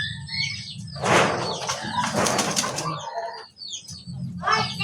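A pigeon beats its wings in rapid bursts while being placed into a backyard cage, loud and close, with brief chirps and a low background hum.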